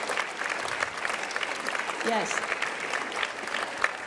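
An audience at a high school orchestra concert applauds steadily for helpers who were asked to stand, with a brief spoken word heard over the clapping.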